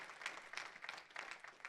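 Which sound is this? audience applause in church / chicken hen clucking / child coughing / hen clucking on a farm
audience applause in church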